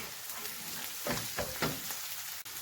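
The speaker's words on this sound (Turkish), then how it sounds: "Kıymamı da soğanlarımla birlikte kavurmaya devam ediyorum." Minced meat and onions being fried together in a pan, giving a steady broadband sizzle with a few short stirring scrapes near the middle, close and moderately loud.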